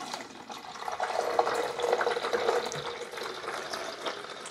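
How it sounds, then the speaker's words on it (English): Vinegar poured into the rear water reservoir of a Mr Coffee 12-cup Rapid Brew coffee maker, a steady close splashing and gurgling stream of liquid running continuously throughout. "We're going to fill it up in the back here to the 4-cup mark with pure vinegar."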